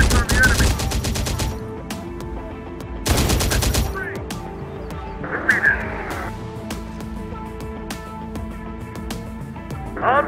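Machine-gun and rifle fire in the strategy video game Terminator: Dark Fate - Defiance, with loud dense bursts at the start and again around three seconds, then sparse shots under radio voice lines and talk.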